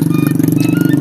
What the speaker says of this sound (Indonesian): Awas motor.